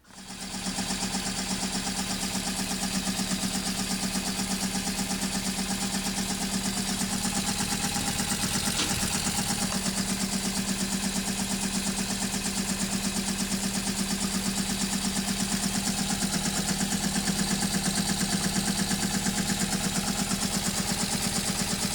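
A refurbished 1918 Singer 127 Sphinx sewing machine runs steadily with a continuous close mechanical whir and hum that starts up and holds an even level throughout, no talking.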